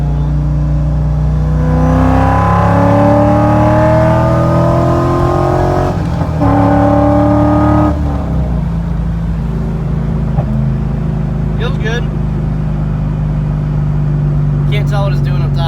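A Chevrolet Corvette C5 with an eBay intake revs hard through a pull in third gear, its loud engine note climbing steadily then dropping off as the throttle lifts, with the car idling and some faint speech afterward.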